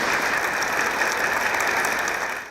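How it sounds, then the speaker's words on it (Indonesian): A studio audience on a talk show gives sustained applause for the pastor, an even, dense hiss of many hands clapping without a break. "tepuk tangan dulu untuk Pak Pendeta."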